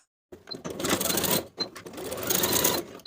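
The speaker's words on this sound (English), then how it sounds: "Sew those side edges with a 3/8 inch seam allowance." Sewing machine stitching the side edges of stretch denim jeans, two close, steady mechanical runs of rapid needle chatter separated by a short pause.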